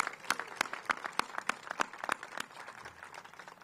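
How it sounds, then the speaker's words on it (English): A crowd at an outdoor waterfront celebration applauds local neighborhood commissioners with steady, fairly distant clapping and a few sharper individual claps, tapering off toward the end. "Let's give them a big round of applause."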